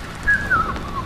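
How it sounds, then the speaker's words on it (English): A person whistles a short, wavering high note that slides downward, close and clear over a low background hum during a gaming session. "I can whistle too"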